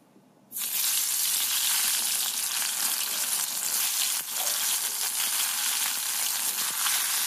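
Eggplant slices coated in gram flour and turmeric drop into hot oil, kicking off a sudden, loud, steady sizzle that holds on evenly after a brief quiet start.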